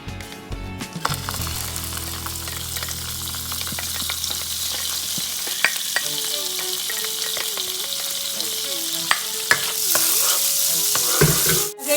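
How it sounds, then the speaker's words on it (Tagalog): Butter sizzles and crackles in a hot pan for beef sisig, a steady loud frying hiss with scattered pops that swells near the end, with no voices. "Mainit na ang pan, lalagyan na natin ng butter."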